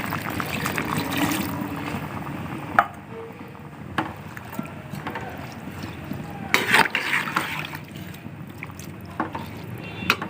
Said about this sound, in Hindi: इसमें पानी डालेंगे हम, ½ kg है तो ½ kg से थोड़ा सा ज़्यादा डालेंगे पानी हम